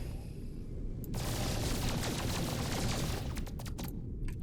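Rapid weapon blasts from a spaceship in No Man's Sky, a dense, loud stream of firing that kicks in after a second and runs steadily, with sharper bursts near the end.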